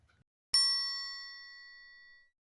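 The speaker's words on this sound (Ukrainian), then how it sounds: "Давайте послухаємо, як звучить трикутник." A metal rod bent into a triangle is struck once with a metal stick, giving a single bright ding that rings on clearly and fades slowly over about two seconds, heard alone.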